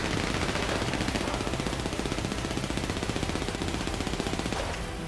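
Rapid automatic gunfire in GTA V rattles in a continuous burst of closely spaced shots, dense and steady, with no talking.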